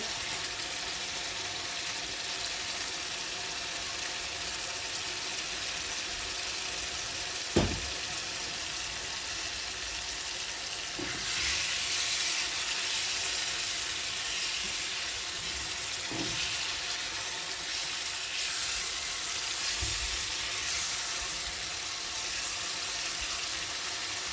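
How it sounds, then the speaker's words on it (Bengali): Hilsa fish head and tail frying in well-cooked masala, a steady close sizzle with a few soft knocks of a utensil against the pan. "এর মধ্যে এখন আমি ইলিশ মাছের মাথার লেজটা দিয়ে দিব।"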